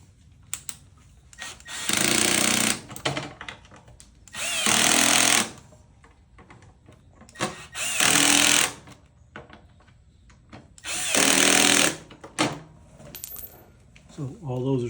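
A power drill drives screws through a metal hinge plate into a plastic blocker plate with a Phillips bit, four separate loud buzzing bursts of one to two seconds each, spaced by quiet gaps with faint handling noise.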